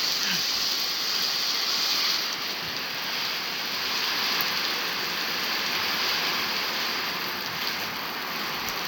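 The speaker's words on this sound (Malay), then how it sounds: "tengok betapa lebatnya hujan tu, melintang habis." Dense, steady hiss of heavy rain pouring down without a break, loud and continuous, nobody speaking.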